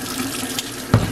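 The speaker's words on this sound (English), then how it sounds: "Then we're gonna fill the rest of it up with water." Sink tap running water into a pot for chicken soup, a steady close splashing stream that swells louder near the end.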